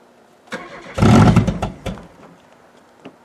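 An old Buick with the Iron Duke four-cylinder cranks over cold and fires, roaring up in a loud burst before settling and fading, with a few sharp revs and a last small blip at the end.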